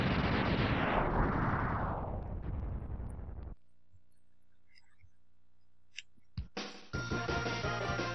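Boss explosion as the D-Tank is destroyed in Mega Man X's Sigma Palace: loud, harsh, crackling blasts that thin out over about three seconds, then near quiet with small blips before bright game music starts.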